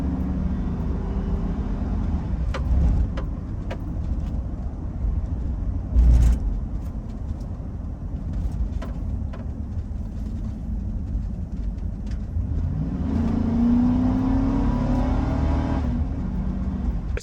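A Chevy Tahoe with a 4L60E automatic transmission at wide open throttle, its engine droning steadily inside the cabin and rising in pitch through upshifts, with a brief thump near the middle and a climbing whine toward the end.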